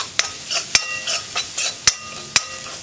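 Crushed green chillies go into frying onions and are stirred, giving a soft sizzle under a series of sharp, evenly spaced clinks of a spoon striking the pan, near and fairly loud.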